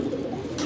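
Pigeons drinking water coo softly in a brief, steady low murmur, close by and without voices.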